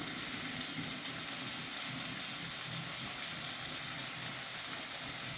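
Soaked raisins and dates frying in oil in a pan, giving a soft, steady sizzle with faint bubbling and no voices.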